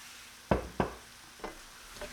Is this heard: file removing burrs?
no